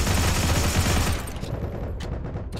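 M1/M2 rifle in the shooter game Heroes and Generals fires a rapid automatic burst for about a second, followed by a few scattered single shots, close and loud.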